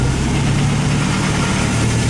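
A 1977 MGB engine running at a fast idle, a steady close-up low rumble with faint rhythmic pulsing throughout.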